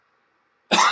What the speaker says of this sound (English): Excuse me, my coughing.